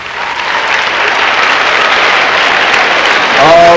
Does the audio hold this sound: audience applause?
yes